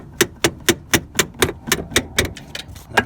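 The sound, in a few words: small toy kitchen hammer knocking on steering shaft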